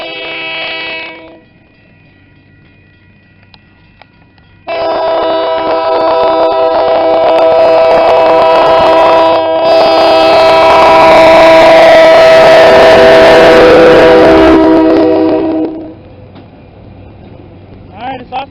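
A local train at a railroad crossing sounds a loud, sustained multi-tone horn in two blasts, a short one and then a long one that swells over the rumble of the passing train before cutting off.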